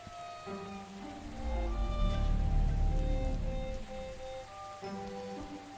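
Rain falls steadily in the Cthulhu adventure game Gibbous, a soft, continuous hiss of drops with a low rumble swelling in the middle, beneath sustained musical tones.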